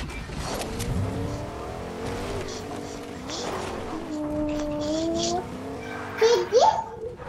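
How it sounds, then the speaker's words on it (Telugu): A motorbike engine in the video game Fortnite revs and whines with rising and falling pitch sweeps, mixed with game effects, while a young voice chatters over it throughout. "సైకిల్ కాదు మా బైక్"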